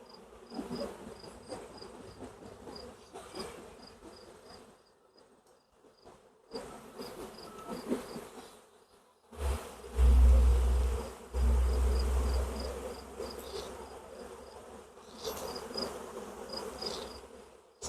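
Honeybees buzz around a beehive, a steady close insect drone with faint clicks and low rumbling handling noises partway through.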